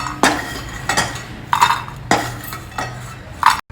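Crisp dry-roasted makhana (fox nuts) tipped from a pan into a bowl, giving five or six separate bursts of rattling clatter and clinks, each sharp at the start and tailing off, with short pauses between and no talking.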